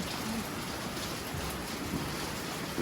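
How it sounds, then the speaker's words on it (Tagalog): Heavy rain pours down in a dense, constant hiss, steady and loud throughout with no letup and no voices, ending in a slight swell. "kasi ang lakas ng ulan"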